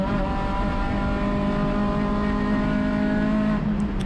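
Acura RSX race car at full throttle around Sonoma Raceway, its engine holding a loud, steady high-rev note close by, then a quick pitch drop at a short-shift into fifth gear near the end.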